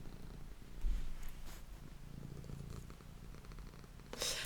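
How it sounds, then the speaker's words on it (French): A cat purring on a lap indoors, a soft, low rumbling purr held steadily throughout, faint and close, with no talking. "j'espère que vous l'entendez ronronner."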